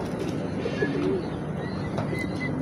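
A pigeon coos softly at close range over a steady background hum, a few low murmuring calls with faint chirps.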